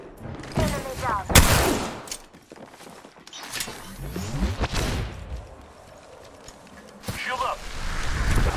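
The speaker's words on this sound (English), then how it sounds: "Listen up, I'm getting shot at." Bursts of video-game gunfire crackle through an online shooter match, several sharp shots and short volleys scattered across the stretch, mixed with in-game voice callouts and clattering mechanical noises.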